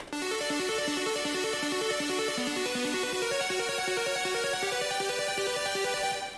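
Arpeggiated synth chords cycle in a steady, rapid rising pattern of bright plucked notes, loud and alone, with the chord changing partway through and continuing to the end.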